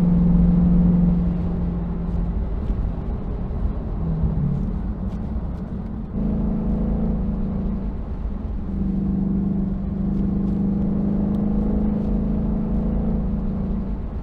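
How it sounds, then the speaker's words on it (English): A steady engine drone fills the cabin as a Mustang follows a 2020 C8 Corvette along a mountain highway, with a constant close rumble and gentle swells in intensity. "There's a C8 Corvette in front of us."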